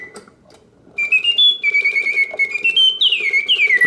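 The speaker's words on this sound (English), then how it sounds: "The bird sings with full voice," A vintage Karl Griesbaum mechanical singing bird cage whistles close up, with warbling, rising and falling trilled phrases over a faint ticking, whirring clockwork mechanism, loud and alone after a quiet start.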